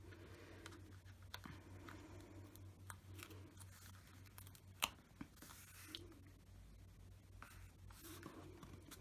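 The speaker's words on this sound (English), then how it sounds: "just get your scissors, just give it a little trim" Quiet, close snipping and rustling as paper is cut with scissors, a few sharp clicks and crisp cuts over a low steady hum.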